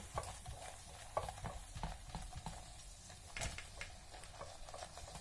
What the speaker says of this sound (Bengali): এবার আবার ভালো করে মিশিয়ে নিতে হবে।